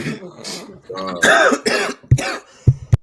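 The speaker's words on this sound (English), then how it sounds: "He coughed so hard he broke the mic." Harsh, hard coughing fits mixed with voiced throaty sounds, loud and close, ending in several short sharp coughs.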